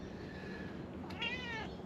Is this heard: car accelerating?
no